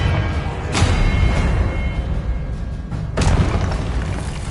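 The Confringo blasting spell explodes in a Harry Potter video game with two heavy, close booms about two and a half seconds apart, each a sudden burst trailing into a deep rumbling roar.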